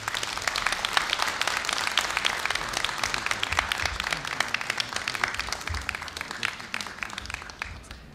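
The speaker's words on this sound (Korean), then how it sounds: "여러분 뜨거운 박수로 환영해 주십시오." Graduation ceremony audience at Korea University applauding to welcome the graduate speaker, steady, crisp many-handed clapping filling the hall and gradually thinning toward the end.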